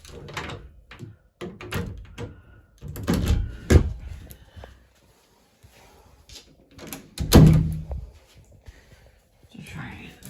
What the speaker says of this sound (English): I'll show you that the door handle and lock is working.